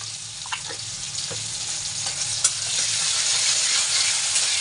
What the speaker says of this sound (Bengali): এই যে টমেটো কুচি ভাজা হয়ে গেছে প্রায়